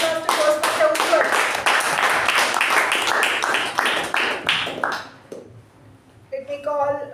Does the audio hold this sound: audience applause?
yes